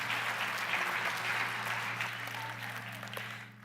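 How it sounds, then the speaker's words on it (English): A church congregation applauds at a Christmas Sunday service, sustained clapping over a low steady hum that gradually fades toward the end. "Round of applause for"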